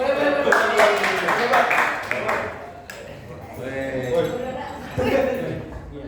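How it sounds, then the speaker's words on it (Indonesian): Students applauding a classmate, Iki, in a university tutorial session, a few seconds of lively clapping at first that thins out as voices take over. "Tepuk tangan dulu buat Iki."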